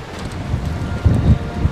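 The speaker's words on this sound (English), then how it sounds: "It is a windy day." Strong wind buffets the microphone at a harbour quay by a yacht club in Iceland, a steady roar with low gusty rumbles swelling near the end.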